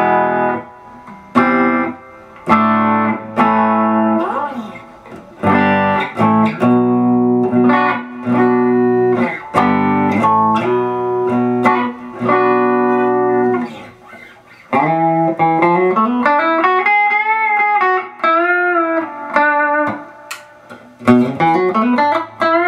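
Clean electric guitar, a Squier Affinity Telecaster converted to an Esquire with an Artec Alnico rail pickup, played as a run of bright picked notes and chords, then a sustained bent phrase with vibrato, loud and close.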